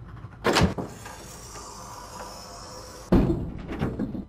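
Sliding cockpit canopy window on a Nakajima Ki27 in Flight Simulator X, two short mechanical slide-and-thunk sounds separated by a quiet pause, close and clear.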